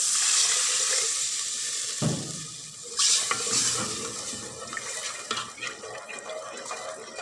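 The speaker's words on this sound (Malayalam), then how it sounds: "വഴറ്റിയ ശേഷം അതിലേക്ക് പുളിവെള്ളം ഒഴിച്ച് കൊടുക്കുക" Tamarind water poured into sautéed ingredients in a pan for a Kerala-style sardine curry, a close splashing, sizzling gush that starts suddenly, then bubbling and stirring scrapes, with no voices.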